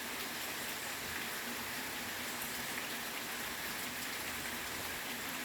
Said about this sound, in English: the sound of the rain is just so incredible